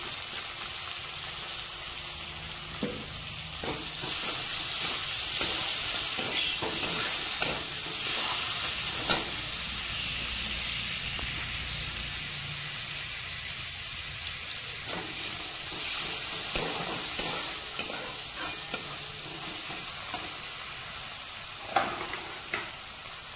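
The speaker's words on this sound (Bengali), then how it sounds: "গরম তেলে কুচনো পেঁয়াজ দিচ্ছি" Chopped onions frying in hot oil in a pan, a steady close sizzle with intermittent stirring scrapes and clicks running throughout, no voices.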